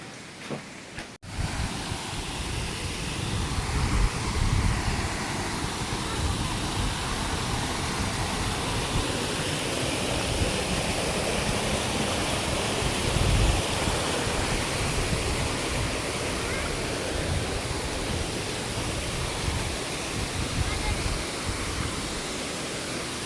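A waterfall roars steadily and loudly nearby, a dense unbroken rush of falling water that starts abruptly after a brief opening and keeps going for the whole stretch with no voices over it.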